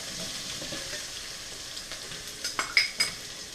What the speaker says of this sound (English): you really just want to fry the onion until the onion breaks apart and gets a little brown